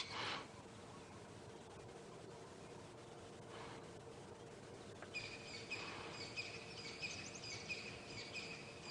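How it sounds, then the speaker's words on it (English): Birds call from the bush on a sunrise safari drive in Africa, faint chirps and a repeated high trill over steady insect buzzing, distant and soft. "listening to all of the beautiful bird calls"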